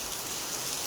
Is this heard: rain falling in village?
yes